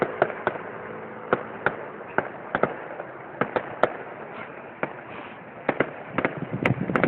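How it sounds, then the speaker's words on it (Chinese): Sharp firecracker bangs pop irregularly at a distance during a night religious procession at the Yanshui Beehive Fireworks festival in Taiwan, scattered single cracks over a steady crowd-and-street hum. "放烟火的"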